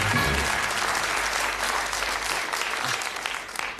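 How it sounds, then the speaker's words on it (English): A game show studio audience breaks into sustained, loud applause, dense clapping that fills the room evenly and fades slightly at the end. "Give them a big round of applause as they go off with their money."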